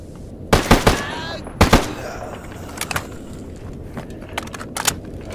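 Gunfire in S.T.A.L.K.E.R. Anomaly: a few sharp, loud bursts of automatic shots close by, followed by scattered lighter pops in the distance over a low background rumble.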